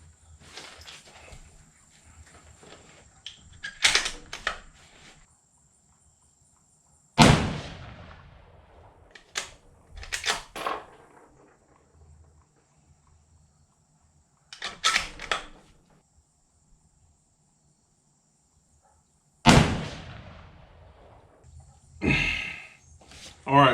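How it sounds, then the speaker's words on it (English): Rifle shots with Federal factory ammunition, 130-grain bullets, several sharp loud reports spaced apart with quiet gaps between, outdoors on a range with people speaking briefly. "we shot 2 shots pretty close together, and this is factory ammo"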